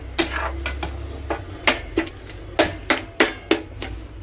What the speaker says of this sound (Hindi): पहले हम इसको तेल छोड़ने तक भूनेंगे